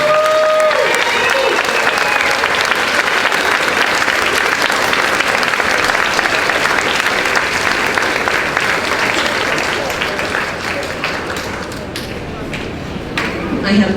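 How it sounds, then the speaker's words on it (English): Loud, sustained applause from an audience at a school send-off for fifth graders, dense clapping throughout that thins slightly near the end. "let's give them a final round of applause."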